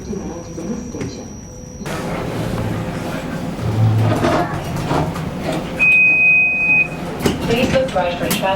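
Toronto TTC streetcar doors sliding shut with a single high electronic chime, heard among ongoing cabin noise and announcement voices, with a brief tone near the start and a clear chime later.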